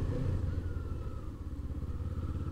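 A Kawasaki Eliminator 500 motorcycle carrying a passenger, its engine a steady low rumble with a fluttering pulse throughout, close and fairly loud, no voices.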